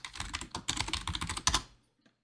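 Rapid clatter of typing on a computer keyboard during 3D software work, a dense run of close, crisp keystrokes that stops abruptly after about a second and a half, leaving near silence.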